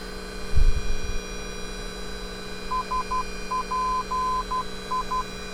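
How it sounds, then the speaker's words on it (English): A steady hum with a faint thump early on, then a thin high beeping tone keying a Morse pattern of short and long pulses, a navigation radio ident. "I hear the Morse code."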